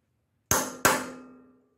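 Two sharp metallic hammer taps land on a Briggs and Stratton motor head to tighten a valve guide. They come close together, each ringing briefly before fading into silence.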